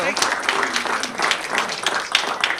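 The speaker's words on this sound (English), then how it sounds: "Let's give a big round of applause for Joseph, for Jeremy, and Andrew." Audience applause at a military-connected mentorship meetup, a steady wash of many hands clapping at moderate volume, with some voices mixed in.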